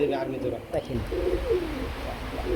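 A pair of army pigeons coo in low, throaty, repeated phrases close by, with a person speaking through part of the sequence.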